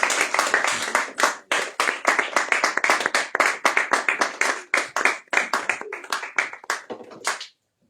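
A church congregation claps to acclaim the Lord in a steady, lively rhythm for about seven seconds. The dense, close-up clapping stops abruptly into silence.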